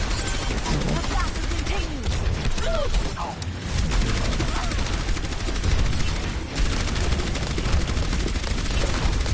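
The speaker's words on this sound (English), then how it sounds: "I headshot Zarya" Rapid gunfire from an Overwatch match on PS4, dense bursts of shots running throughout under players' voice chat.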